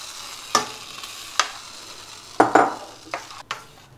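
Hot tempering poured into pongal crackles and sizzles in short bursts while a spoon stirs it through the rice, several close, quick scraping strokes with brief spits of frying.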